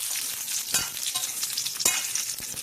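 Drumstick pieces fry in a pan with a steady close sizzle, punctuated by a couple of sharp spatula scrapes as they are turned.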